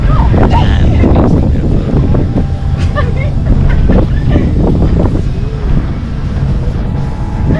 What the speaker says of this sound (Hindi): अच्छी हवा चल रही है।